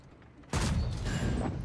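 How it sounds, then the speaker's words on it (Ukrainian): A single heavy cannon shot from the Italian Coccodrillo tank in a video game bursts in after near-quiet and booms loudly, with a long rumbling tail that fills the rest. "Постріл"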